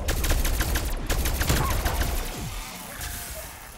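Gunfire in the video game Cold War Zombies, rapid loud automatic bursts with sharp repeated cracks that gradually thin out and fade toward the end.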